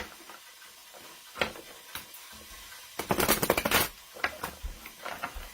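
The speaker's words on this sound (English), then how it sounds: "So I'll just get my tarot cards shuffled here. I tend to shuffle 7 times." Tarot cards being shuffled by hand, producing soft crisp riffles and taps in short bursts, with a denser flurry of card flutter in the middle.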